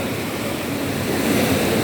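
Sea waves wash steadily onto the shore at Infanta, a continuous rushing surf with wind noise, fairly loud and with no voices.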